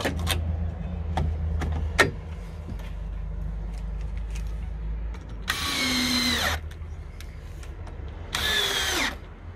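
A power drill bores 8 mm holes for wall plugs while a water wall is being installed. Two loud, whining bursts of about a second each are separated by quieter handling noises and light knocks.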